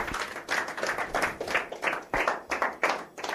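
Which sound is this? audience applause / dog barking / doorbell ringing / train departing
audience applause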